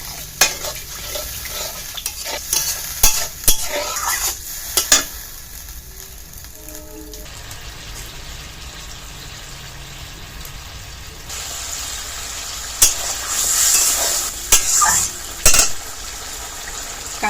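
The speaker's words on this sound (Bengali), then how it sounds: "আর একটু জল দিয়ে দিয়ে কষাতে হবে।" Pabda fish curry masala being stirred and fried in a pan with a little water added, steady sizzling under scraping and clinking of a spoon against the pan, close and continuous.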